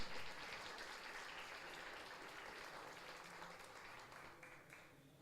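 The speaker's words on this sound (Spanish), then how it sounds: "Denle el aplauso al Señor por el regalo que Él nos da" A church congregation applauds during a sermon, a steady wash of many hands clapping that holds evenly throughout and fades slightly near the end, fairly soft and distant.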